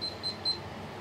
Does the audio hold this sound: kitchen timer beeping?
yes